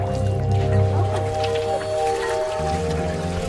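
Wet laundry washed in polluted Citarum river water, near a textile factory outlet, is wrung out by hand. Squelching squeezes and drips run over a steady low hum.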